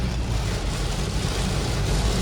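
A car pushing slowly along a flooded road in heavy rain, water spraying up around it, heard as a steady rumbling wash of engine and splashing with a dense low roar throughout.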